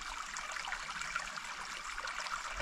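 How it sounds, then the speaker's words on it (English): Steady rush of a stream flowing beside a hiking trail, a dense continuous burble heard close and fairly loud on its own, with no talk over it. "Man, listen to that water."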